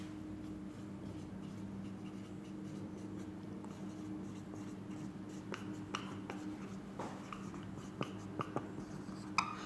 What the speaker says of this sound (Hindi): लिख लेते हैं सबसे पहले